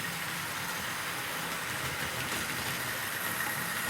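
Tri-ang Super 4 model train rolling stock running on a layout, a steady, hissing rattle of small wheels on track, continuous and moderately loud with no pauses.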